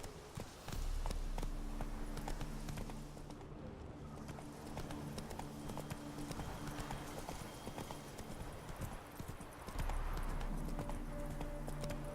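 Roach, the horse in The Witcher 3, gallops along with steady rhythmic clip-clop hoofbeats close by, sustained over a low droning background throughout.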